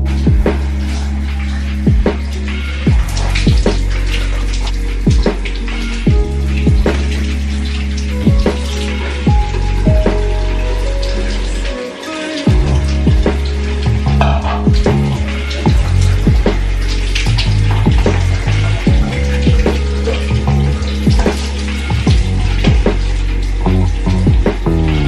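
Shower water runs steadily for a long stretch with a toddler in the bathroom, making loud, close splashing with frequent sharp drips and spatters hitting the surface.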